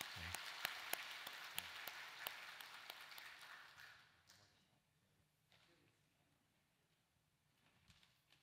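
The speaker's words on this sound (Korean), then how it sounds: "우리 청년들 박수로 우리 뜨겁게 축복합시다" A church congregation at a Sunday worship service applauds to bless young adults. The burst of clapping is moderately loud for about four seconds, then dies away into near quiet with a few stray claps.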